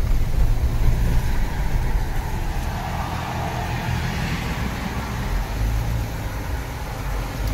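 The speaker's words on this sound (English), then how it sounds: "See cars coming, lighting everything up." Steady road rumble and broadband tyre noise from cars driving in the dark, a continuous moderately loud wash with no distinct single pass-by and no voices.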